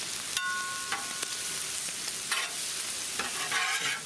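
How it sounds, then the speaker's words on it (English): Chicken sausage and peppers sizzle steadily on a Blackstone griddle while a metal spatula scrapes and clinks against the flat top a few times, with no talking. "And there it all is, frying up real nice"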